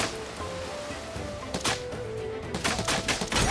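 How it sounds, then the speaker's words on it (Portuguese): Sharp gunfire bursts from Final Fantasy VII Rebirth ring out over a steady electronic background, several quick shots in short clusters. "Ah, é pra dar vários tiros."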